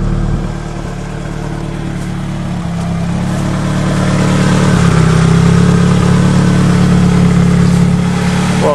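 A Talon car engine with a rebuilt motor runs after seven months of winter storage, a loud steady low idle that rises slightly in pitch midway, close and without talk.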